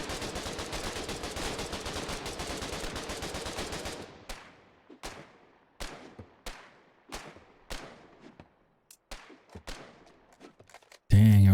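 Rapid gunfire in the war game Foxhole: a dense sustained burst of automatic fire, then a string of separate sharp shots with echoing tails, ending in a loud low thump.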